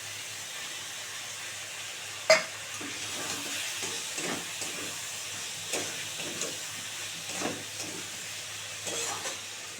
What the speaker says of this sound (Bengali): এবারে আমি চিংড়ি মাছটা দিয়ে দেবো। ভাজা চিংড়ি মাছগুলো দিয়ে দেবো।